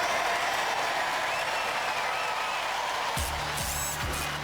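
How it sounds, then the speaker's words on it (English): A studio audience at a US robot combat championship applauds in a steady, full roar of clapping, joined near the end by a brief burst of louder tonal sounds. "I think you guys all deserve a big round of applause from everybody in our audience"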